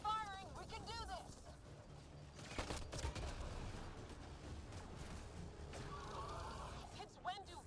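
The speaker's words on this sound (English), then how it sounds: "Just keep firing, we can do this!" Gunfire in the video game Mass Effect: Andromeda, with dense bursts of weapon fire and impacts mixed with music and effects, while characters talk throughout.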